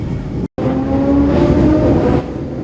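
Classic Superbike racing motorcycles pulling away from the start line at the Classic TT road race, a loud close engine roar with a rising tonal whine, briefly cut by a gap, then fading slightly.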